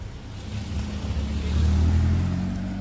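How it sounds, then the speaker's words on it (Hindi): A car approaches and passes on a road during a walk with a Labrador, its engine hum swelling steadily and peaking midway before easing slightly, heard alone without talk. "और ये गाड़ी आ जाती है, मैं साइड हो जाती हूँ।"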